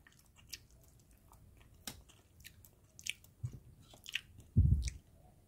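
Food being eaten up close, with moist chewing, soft bites and crunches coming in irregular bursts, the loudest near the end, in a quiet room with no talking.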